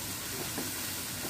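Whisked yogurt pours into hot oil with ginger for egg korma, giving a steady, full sizzle and hiss that fills the moment with no voice over it.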